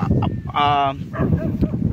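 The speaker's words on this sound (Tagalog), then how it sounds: "kinakulan ako ng mga aso dito" A short dog bark followed by a brief, harmonic yelp, close by, with a person speaking around it.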